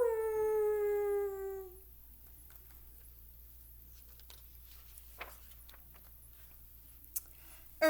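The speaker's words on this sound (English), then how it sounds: "Coyote sat on his haunches and howled," A coyote howl in a folklore story, a single long, wavering tone held for under two seconds near the start, then fading into quiet with a few faint clicks.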